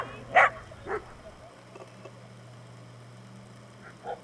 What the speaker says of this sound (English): we walk a little further and encounter the barking dog